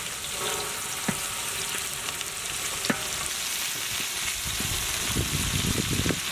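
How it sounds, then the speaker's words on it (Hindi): Finely chopped onions and green chilies fry in hot oil in a pan, a steady close sizzle with occasional crackles and stirring scrapes throughout. "इसके साथ साथ हम लोग इसमें फाइनली चॉप्ड ऑनियंस भी ऐड करेंगे।"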